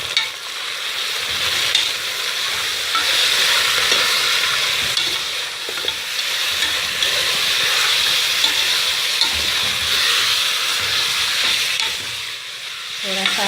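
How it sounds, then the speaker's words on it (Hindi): Meat frying with onions for haleem as it is stirred in a hot pot, a loud continuous sizzle with scraping stir strokes throughout, no talking. "थोड़ा सा आप इसको भूनें प्याज के साथ।"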